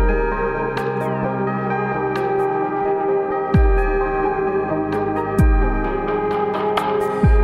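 An Elektron Digitone and Digitakt sequencer jam runs as a dense synth groove with droning pads, crisp percussive hits and a few deep pitched drops sweeping downward, steady and loud with no talking.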